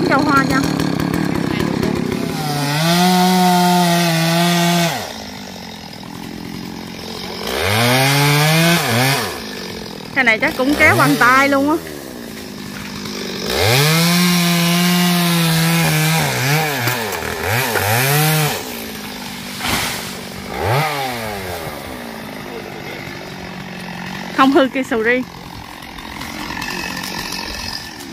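A chainsaw revs in repeated loud bursts while cutting down large trees near a durian tree, the engine droning steadily between rising and falling revs, with people talking over it.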